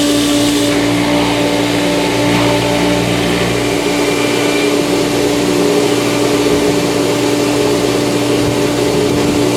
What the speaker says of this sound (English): So the main pump has prime and everything is good and it's pumping through.